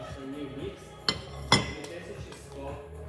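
A few sharp clinks and knocks of dishes being set down, with two distinct impacts and some quieter handling sounds in between.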